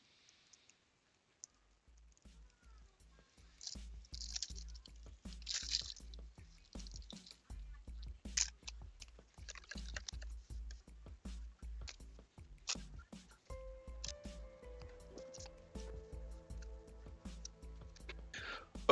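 A card game deck is unwrapped and shuffled at a table, giving a string of close, crisp clicks and soft riffling snaps in quick irregular bursts over quiet background.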